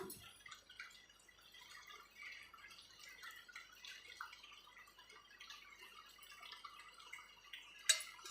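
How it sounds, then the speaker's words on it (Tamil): Boiled lemon tea strained through a filter gives a faint, quiet trickle and light dripping throughout, with no voices. "இப்போ நம்ம டீயை வந்து ஃபில்ட்ரு பண்ணிக்கலாம்"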